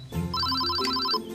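A telephone rings with a quick electronic warbling ringtone, close and clear, one short burst with no talk over it.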